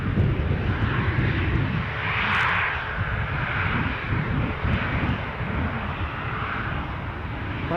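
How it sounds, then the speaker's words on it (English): An Eastern Airways airliner from Aberdeen on final approach at Newcastle airport, a steady broadband engine roar heard from a distance with a low rumbling undertone, fairly even throughout. "Eastern Airways from Aberdeen on finals"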